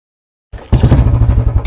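A Bullet motorcycle engine fires up on the first kick, starting with a brief cough and then settling into a loud, close, steady thumping idle with a deep low rumble.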